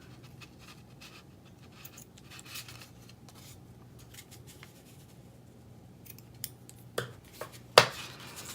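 Scissors trim paper craft pieces: a quiet stretch of faint handling noise, then a few crisp, close snips toward the end, the last one sharpest.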